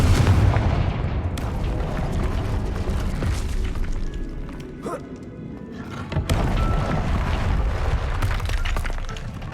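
Blasting spell explosions from the Hogwarts Legacy video game, loud booming bursts over a dense rumbling battle mix, with a sharp hit near the middle followed by a brief dip and renewed blasts.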